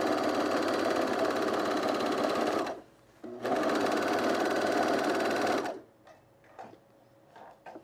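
A sewing machine stitches denim for cargo pants in two loud, continuous runs split by a short pause, followed by quieter clicks and fabric handling.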